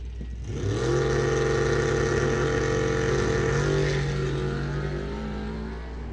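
Drag racing cars at Coles County Dragway, a Camaro chasing down a dragster, roar past in one loud, sustained engine blast that swells quickly and then fades slightly as they pass.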